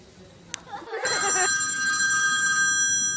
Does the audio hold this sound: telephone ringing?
yes